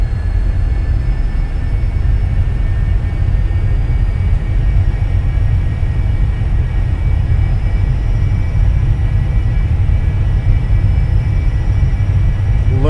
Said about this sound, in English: This is a awesome jet.